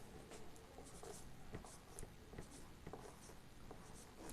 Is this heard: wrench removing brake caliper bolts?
no